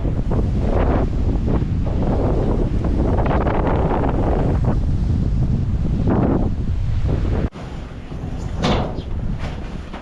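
Strong gusting wind from an approaching storm roars steadily and loudly across the microphone, with a brief drop and renewed gusts near the end; no talking.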